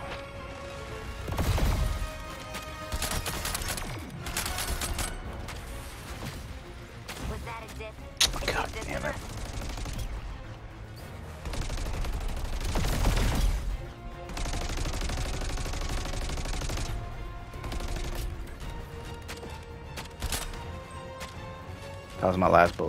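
Video game gunfire and crashing combat effects from Suicide Squad: Kill the Justice League during a Green Lantern boss fight, dense and continuous with bursts and impacts across the whole stretch, under intermittent talking.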